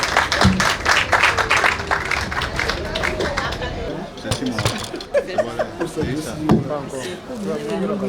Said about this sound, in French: Applaudissez très fort pour le couple.